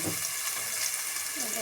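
A full batch of onion sizzles in hot oil at home, the start of a chicken gravy, with a steady close frying hiss that runs unbroken throughout.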